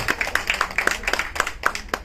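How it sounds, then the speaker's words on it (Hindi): An audience at the Dada Saheb Falke Icon Award 2020 event in Dadar claps for the hotel owners, a loose patter of many hands hitting at a fairly quick, uneven rhythm, close and clear, with no talk on top. "सबसे पहले इनको एक बार ताली बजाई इनके लिए"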